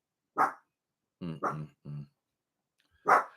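A dog barks in short separate bursts with a couple of whimpering yelps between them, close by, in a quiet indoor room with no talking.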